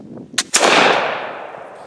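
A .50 caliber flintlock rifle fires with coarse 2F powder in the pan: a sharp flint snap and pan flash, then a split second later a loud booming discharge that rings and fades.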